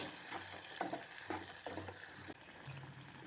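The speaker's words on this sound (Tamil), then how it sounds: "மசாலாவும் ஒரு ரெண்டு நிமிஷம் எண்ணெயில் வதங்கட்டும்" Masala sizzles and fries in hot oil in a pan for a village-style dried fish curry, with several stirring scrapes breaking through a steady close crackle.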